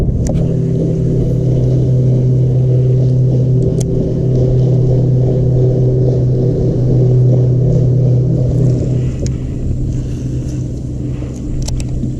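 A bass boat motor drones loudly and steadily at close range on Pickwick Lake, a deep continuous rumble with a slight rise and fall in pitch.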